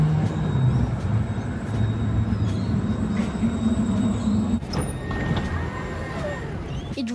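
An electric tram rolls along rails with a continuous low rumble and rattling, a brief clunk midway, and faint high whining tones above.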